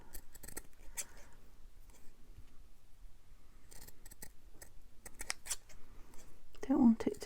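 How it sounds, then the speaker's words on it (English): Scissors snip through a fabric scrap's frilly floral hem, with several bursts of crisp close cutting and a crunchier run of snips near the end, while a voice speaks quietly in between. "Let's try and just cut out that frilly bit, that florally."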